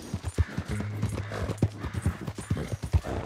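Horse hooves clip-clop in a steady walking rhythm in the video game Red Dead Redemption 2, close and fairly loud, with no speech over them.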